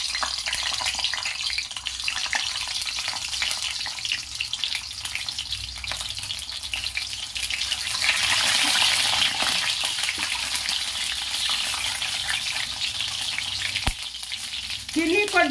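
Eggs deep-frying in hot oil for an egg curry give a loud, steady sizzle that runs unbroken and swells a little partway through, with a faint clink near the end.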